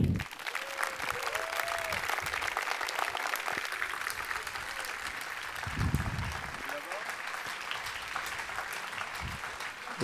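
An audience at a national eloquence contest in Aix-en-Provence applauds to welcome a juror, sustained thick clapping with a few cheers and voices mixed in.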